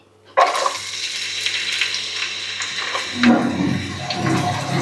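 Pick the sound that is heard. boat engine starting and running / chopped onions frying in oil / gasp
chopped onions frying in oil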